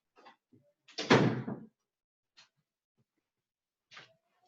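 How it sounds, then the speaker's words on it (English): A single heavy thud of a door being shut, close and fairly loud, with a few faint clicks and knocks before and after in an otherwise quiet room. "I'm going to shut my door because there's loud dollies back here."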